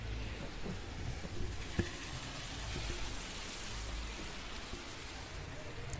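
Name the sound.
heavy rain falling outside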